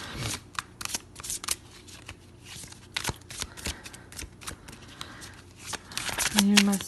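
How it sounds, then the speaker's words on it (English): Oracle cards being shuffled by hand in a quiet room, a close run of quick papery riffles and taps, with a brief tonal sound near the end. "let's pull some oracle cards."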